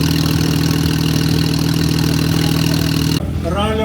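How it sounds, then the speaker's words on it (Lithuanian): A Porsche rally car's engine runs steadily at idle at a rally event in Palanga, loud and close with a dense droning hum, cutting off abruptly near the end as a faint voice follows. "Išgirdote, kaip dirba Porsche variklis."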